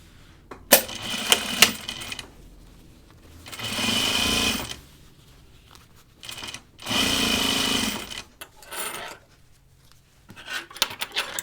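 Sewing machine topstitching a jacket pocket flap, two sustained whirring runs of stitching separated by pauses, with clicks and handling noises between and after them.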